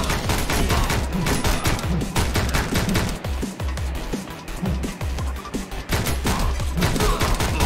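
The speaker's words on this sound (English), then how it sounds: "Keep shooting and nobody dies" Gunfire in Speed Limit, a bullet-train shooter, dense rapid volleys of loud close shots with crackling impacts, briefly thinning in the middle before resuming at full intensity.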